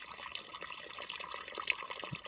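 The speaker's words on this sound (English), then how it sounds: "I'm over here filling up my water" Water trickling and splashing into a bottle being filled at a stream on a hike, a steady close bubbling rush with no talking.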